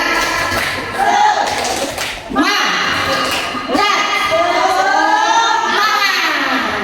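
An audience of teachers at a school workshop performs a rhythmic clap chant, bursts of patterned clapping mixed with voices calling along, loud and close, with brief pauses between phrases.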